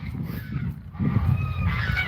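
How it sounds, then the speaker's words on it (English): Geese honking in a snowy outdoor setting in South Dakota, several moderately distant calls overlapping against low rumbling background noise. "Geese don't seem to mind the snow."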